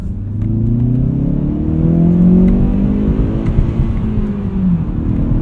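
A 2016 Hyundai Veloster Turbo Rally Edition accelerates hard from inside the cabin, its engine giving a loud, steady drone with rising harmonic pitch sweeps across gear changes and continuous road rumble.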